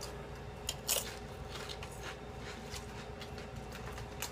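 Quest sour cream and onion protein chips bitten and crunched close up, a sharp crisp bite near the start followed by quieter chewing, with no talking.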